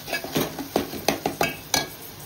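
Garam masala and Agri masala being sautéed in a pan, with a spoon or spatula scraping and knocking against the metal in an irregular rhythm over a faint sizzle, close and clear.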